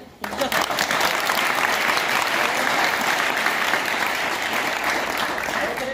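Sustained audience applause for a martial arts and yoga teacher at a taekwondo, karate and boxing demonstration event in Maharashtra, a dense, steady clapping that starts abruptly and holds loud throughout.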